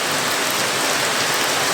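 Heavy rain pours down in a constant loud hiss, dense and unbroken throughout, with no voices.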